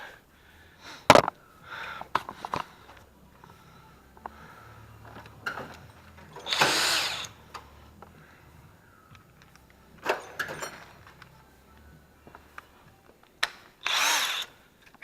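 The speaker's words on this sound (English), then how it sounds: "Grab my handy dandy impact and pull that one right out." Impact wrench pulling an M10 12-spline seat bolt from a B6/B7 Audi A4 front driver seat, with two short loud whirring bursts separated by clanks, socket clicks and handling noises nearby, no talk.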